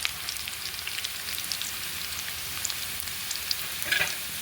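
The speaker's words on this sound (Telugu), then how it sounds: "నెయ్యిని సేమియాలతో రోస్ట్ చేసుకొని పెట్టుకోండి" Semiya vermicelli roasting in ghee in a pan gives a steady, close sizzling hiss with light crackles throughout, swelling briefly near the end, with no voices.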